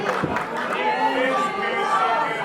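A large wrestling crowd at a PWO 6th anniversary main event roars and chatters after a double clothesline, a dense sustained wall of voices with scattered shouts.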